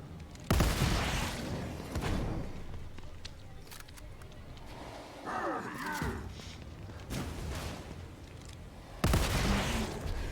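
Gunfire from a double-shot weapon in The Evil Within 2, with loud broadband blasts near the start and again near the end, separated by quieter in-game sounds and a brief swelling effect in the middle.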